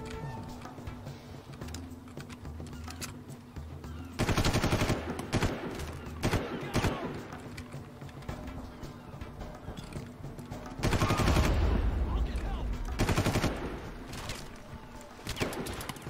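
Bursts of gunfire from a gun in Far Cry, several loud rapid volleys separated by quieter stretches, close and harsh, with no voices over the shots.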